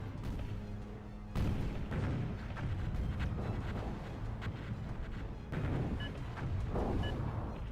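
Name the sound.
bombing explosions in the Zero-K video game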